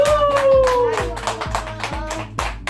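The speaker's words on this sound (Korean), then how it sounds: "박수!" Family party clapping along to a Korean birthday song, steady rhythmic hand claps about twice a second, close and loud, under singing voices with a sustained cheer at the start.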